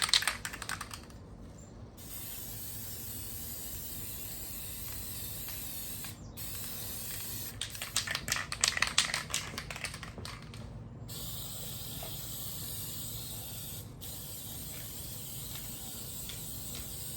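An aerosol can of filler primer sprays onto bare, rust-treated metal on a VW Beetle. A continuous close hiss runs the whole time, with brief pauses and rattling bursts as the nozzle is pressed and released.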